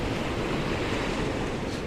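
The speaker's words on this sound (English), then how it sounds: "we've got the tide receding through here" Sea water recedes with the tide on the Northumberland coast. A steady, unbroken wash of surf blends with rough wind noise across the whole stretch, with no distinct wave crashes and no voices.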